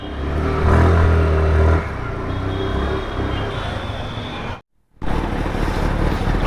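A Hero Xoom 125 scooter with a 125 cc engine hums steadily while being ridden, with loud, close rumbling that briefly swells early on, a sharp cutout near the end, then steady engine and road noise again.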